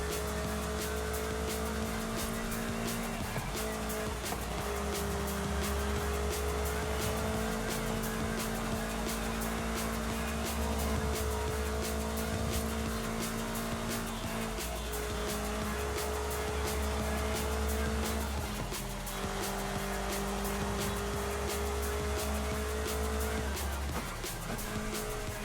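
Racing car in Forza Horizon 5 cornering hard, engine droning steadily throughout with repeated tire squeal and skidding as it takes the turns, loud and continuous with no talking.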